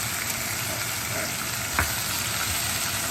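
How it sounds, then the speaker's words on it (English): Beef and zucchini stir-fry sizzling loudly and steadily in a pan, with a single short scrape of a stirring utensil partway through. "I'm just going to open up the lid, give it a stir to check on the doneness of the beef and the vegetable here"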